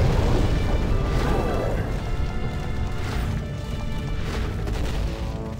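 A boss attack in Demon's Souls sets off a rumbling, crashing blast with a heavy low roar that carries through the whole stretch, loud and continuous with several swelling impacts.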